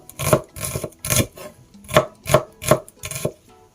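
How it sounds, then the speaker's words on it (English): A knife thinly slices onions on a cutting board for a home cabbage in coconut milk dish, about eight crisp, evenly spaced chopping strokes, close and clear with no voices. "Next, I'm going to slice thinly the onions."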